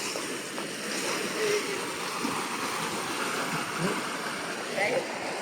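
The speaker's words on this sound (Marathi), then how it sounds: "पाण्यातला फ्लो बघा." Water rushes forcefully through a channel in a Konkan rice field, a steady broadband gush at moderate level with splashy detail, and a person talks over it.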